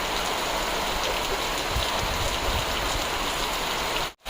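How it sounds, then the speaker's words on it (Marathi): First monsoon rain of June pouring steadily, a dense continuous wash of falling drops close by, with no voices, cutting out abruptly near the end. "2026चा पहिला पाऊस, जून महिन्याच्या 21 तारखेला."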